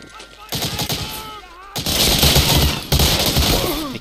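Gunfire from enemy guards in Medal of Honor: Allied Assault, loud rapid bursts of automatic shots cutting in and out in several volleys.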